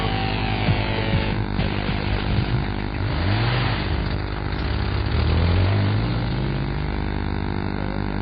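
Steady, loud, rough drone of a car engine running on petrol with one kilogram of dissolved sugar, a continuous humming rumble with shifting low tones and no voices.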